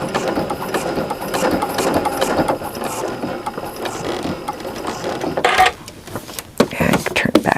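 A sewing machine fitted with an Ultra Glide foot stitches leaf shapes in a rapid mechanical whir that breaks into sharper clicking and ratcheting bursts toward the end, heard close up under intermittent talk.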